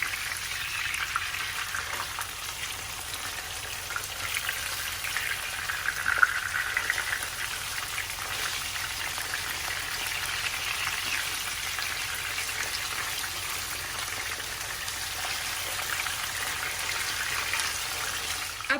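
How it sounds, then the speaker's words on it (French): Skate wings fry in a pan, a continuous soft crackling sizzle with tiny popping spatters, steady and moderately quiet throughout, with no talking. "on les fait frire sur cette face pendant à peu près 5 minutes"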